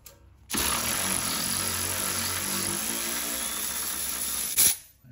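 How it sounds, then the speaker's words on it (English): A power ratchet loosens a bolt on a BMW M-car coilover, a close, loud, continuous high whine running about four seconds before cutting off. "Just put the power ratchet on there."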